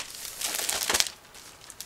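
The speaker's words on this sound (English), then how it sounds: "first of course we have to open this plastic bag" Crinkly plastic packaging being opened, a resealable bag holding a Kagero Turan medium tank reference book, heard as close, brief crackling and rustling with a sharper crinkle near the middle.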